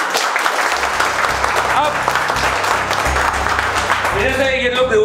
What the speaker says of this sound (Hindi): एक बार आप अपने लिए जोरदार ताली बजाओ भाई।